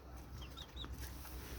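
Chickens and roosters cluck softly in a farm coop just after a rooster fight, with a few short, faint clucks over low background noise.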